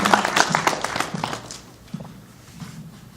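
Audience applause at a fundraising dinner for Syrian refugees, a burst of dense clapping at the start that thins into scattered claps and fades by the end.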